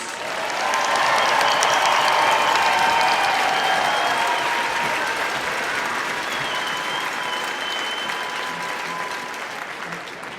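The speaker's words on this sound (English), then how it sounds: "Please join me in recognizing these impressive individuals for their accomplishments by offering another round of applause" Audience applauding graduates at a fall university commencement ceremony, a broad, sustained wash of many hands that swells quickly, holds, then slowly fades across the hall.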